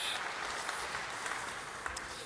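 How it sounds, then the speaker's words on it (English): An audience applauds after a conference talk on making DevOps work at scale, with a steady wash of clapping that sounds somewhat distant and quiet throughout. "Big round of applause for Lars Rossner."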